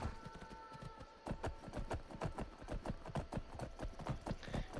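Rhythmic clip-clop of horse hooves at a steady gallop in Skyrim, even and fairly close, with a faint tonal background and no talk.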